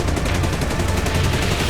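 Machine-gun fire from a WW2 fighter plane, a Soviet Yak shooting at a P-38 Lightning, comes as a loud continuous rapid burst with evenly spaced rattling shots throughout.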